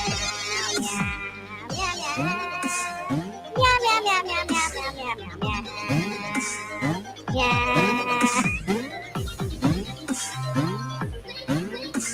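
A high, childlike human voice imitates a cat, meowing over and over in a quick, sing-song string of rising and falling mews, close and continuous.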